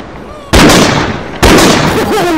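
Two sharp, loud gunshots ring out in the Bodycam zombies video game, each a sudden broadband blast with a decaying tail, spaced about a second apart.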